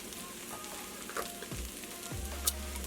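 Fire-roasted tomatoes hitting a hot pot of vegan chili, with steady frying and sizzling, soft stirring clatter and a few brief sharper splashes near the end.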